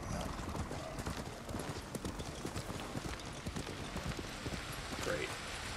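Rapid hoofbeats of a galloping horse in the samurai action game Ghost of Tsushima, a dense, steady clip-clop drumming throughout, fairly quiet under a continuous wash of ambient game noise, with someone talking over it.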